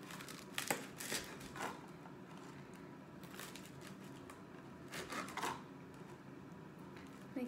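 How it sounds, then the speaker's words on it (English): Bread slices for an inflight salmon dish get their crusts trimmed, with several crisp snipping cuts and soft rubbing crinkles spread in small bursts near and fairly quiet. "Let's cut off our edges here."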